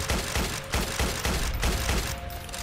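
Bursts of rapid gunfire strike a wall in the Roblox trench-warfare game Entrenched, a loud, close, rattling run of shots broken by brief gaps.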